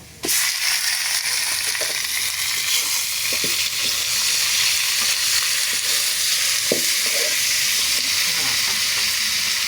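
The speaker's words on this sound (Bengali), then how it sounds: "এই পেঁয়াজ ভাজার উপরে আমি মাংসটা দিয়ে দিব" Meat dropped onto fried onions in a pan for a picnic meal, setting off a loud, steady close sizzle with occasional stirring clicks and scrapes.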